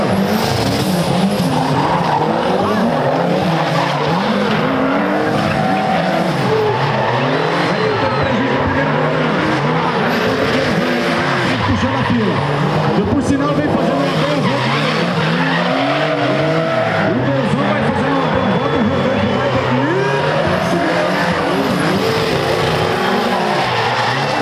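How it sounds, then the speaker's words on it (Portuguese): A Nissan 370Z and a VW Gol G5 drifting side by side at a drift event, engines roaring loudly and continuously with long squealing tire screeches rising and falling for the whole stretch, close and intense. "teve essa batalha de drift do 370Z contra esse Gol G5"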